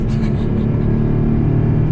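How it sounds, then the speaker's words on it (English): A Mercedes-Benz CLS63 AMG engine gives a loud, steady, deep rumble that runs close and unbroken for the whole two seconds. "This car is so loud."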